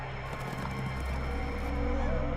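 Racehorses gallop past the post at a 1930s Cincinnati racetrack, drumming hooves under a droning background, with a brief whinny and the sound swelling louder toward the end.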